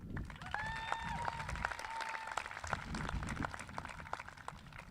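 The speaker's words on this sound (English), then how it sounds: "Please give them a round of applause." Audience applause for school staff rings out at a high school class of 2025 graduation ceremony, a fairly distant patter of many hands clapping with a few whoops and whistles rising over it.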